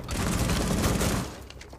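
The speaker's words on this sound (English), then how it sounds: "How is he shooting through the walls?" Bursts of gunfire in Rainbow Six Siege blasting through walls, a dense, rumbling rattle of shots lasting about a second before tapering into scattered debris sounds.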